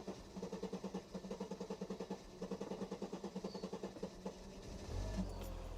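A classic Mercedes engine settles into idle after starting, its close, rhythmic chugging pulses lumpy and uneven, then giving way to a deeper rumbling swell near the end.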